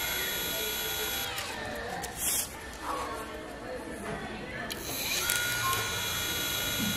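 A Japanese SANYO 12V/24V 250W electric motor spins at around 3000 rpm in a speed test, giving a steady high-pitched whine with a buzzing rattle, close by and under someone speaking.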